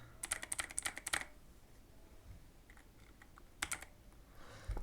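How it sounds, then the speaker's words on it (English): A password being typed on a computer keyboard: a quick burst of about a dozen close key clicks, a pause with faint taps, then a second short burst of clicks. "and then type your password"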